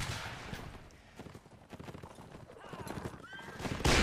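Cavalry horses gallop in the Mount and Blade North & South mod, with rapid clip-clop hoofbeats, whinnies and scattered gunshots, ending in a sudden loud burst.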